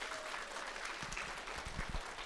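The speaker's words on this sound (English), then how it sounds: "So HYC, let's give your parents a round of applause, yes?" An audience at a youth choir concert gives a steady round of applause, a dense, moderately distant patter of many hands that holds evenly throughout.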